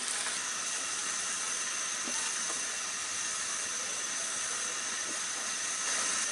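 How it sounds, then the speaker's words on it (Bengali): A layered paratha fries in oil in a pan, giving a steady, soft hiss and faint crackle that holds evenly throughout, quiet and close with no talking. "তেল দিয়ে এখন পরোটাটাকে ভালো মতো ভেজে নেব বাদামি করে।"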